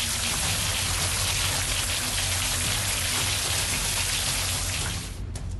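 Heavy rain pours steadily and loudly in a continuous dense hiss, with no voices, easing slightly in the final moments.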